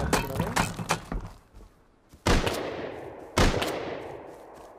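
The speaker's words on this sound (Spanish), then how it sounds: "¿Quién se están disparando?" Gunfire rings out in the survival game Rust, a rapid burst of shots followed by two loud, echoing blasts that decay slowly, with a player's voice talking over the opening shots.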